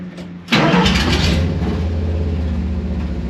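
A Subaru engine fitted in a VW Bus cranks and catches after half a second of quiet, then settles into a loud, steady, close running rumble with no talk.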